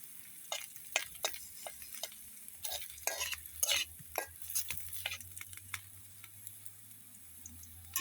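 Onions fry in a pan for a breakfast dish, giving a quiet, sparse crackle with irregular ticking pops and occasional scraping stirs, with no talk.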